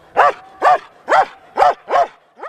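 A protective dog barks six times close by in a steady, evenly spaced rhythm, each bark sharp and loud, the last one shorter and softer.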